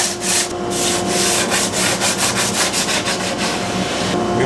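Wood is sanded by hand with sandpaper in a shop, with loud, close rasping strokes repeating in a quick, even back-and-forth rhythm and brief pauses at the start and end.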